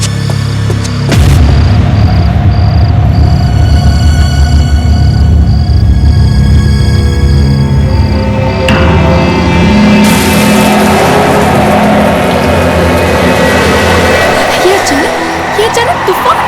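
Sudden storm with a loud, continuous roar of wind and rumbling, a deep boom near the start and a harsher gusting surge later, one sustained wall of sound with voices speaking beneath it.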